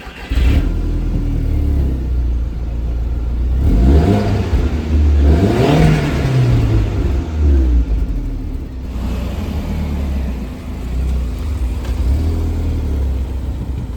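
A car engine revs in a garage, swinging up and down through several loud rising and falling sweeps over a rumbling idle, with no talking.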